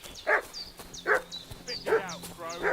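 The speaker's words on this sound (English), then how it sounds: "What's that dog making such a fuss about?" Dog in Kingdom Come: Deliverance 2 barks and yips in four sharp bursts, roughly evenly spaced, fairly close and clear against a quiet game background.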